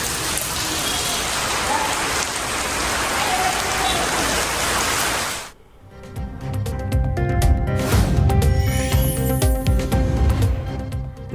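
Heavy, steady rain pours loudly for several seconds during prolonged downpours that flooded the Neyveli NLC coal mines, then cuts to a different dense, busy sound.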